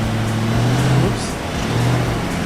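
A Subaru Outback engine revs off-road in four-wheel drive, a steady low drone that swells and dips briefly, close and loud for a couple of seconds with no talk.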